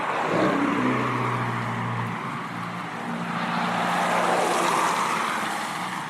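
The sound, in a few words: road traffic passing by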